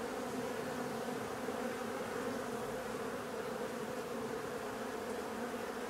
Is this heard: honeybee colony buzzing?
yes